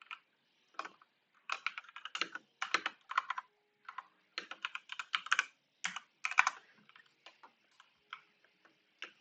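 Typing on a computer keyboard, bursts of close, crisp key clicks in uneven rhythm separated by short pauses, with no other sound.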